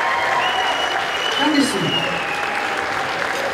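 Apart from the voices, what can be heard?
audience applause at a gala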